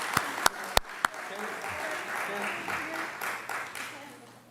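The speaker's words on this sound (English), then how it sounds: "so how about a round of applause?" Audience applause at a school district staff recognition evening, a steady wash of clapping from a seated crowd following a few sharp, loud claps, fading toward the end with some voices mixed in.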